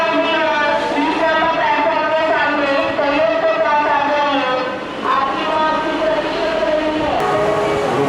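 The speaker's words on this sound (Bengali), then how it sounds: "7:20 হাওড়া খড়গপুর লোকাল ছাড়লো 7:41।" A Howrah–Kharagpur local train at Howrah station rumbles steadily with sustained tonal engine or horn hum, loud and continuous throughout, with a shift in pitch near the end.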